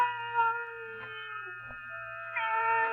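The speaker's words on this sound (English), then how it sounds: "With my awakening, the cry didn't cease." A cat's drawn-out crying in an old radio drama, a few long plaintive meows that rise and fall against a quiet, hollow background with a low hum and no talking.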